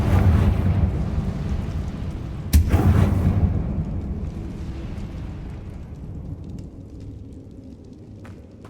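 A Confringo fire-spell blast from Hogwarts Legacy booms loud and close, a sharp hit on top of a rumbling roar that fades slowly over several seconds.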